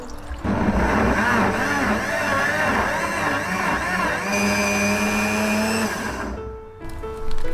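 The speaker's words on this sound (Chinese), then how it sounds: "切好的姜片装进榨汁机里面，倒入500毫升清水，打成姜汁。" A juicer-blender whirs loudly and continuously as it blends ginger slices with water into juice, its motor pitch shifting slightly mid-run before winding down near the end.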